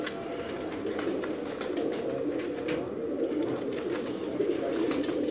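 Pigeons of a Sialkot fancier's breeds coo softly and repeatedly under a steady low murmur of background noise, with no talk over the calls.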